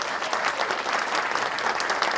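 An audience claps steadily and densely at a Brazilian political talk, sustained applause with a little crowd murmur and no speech over it.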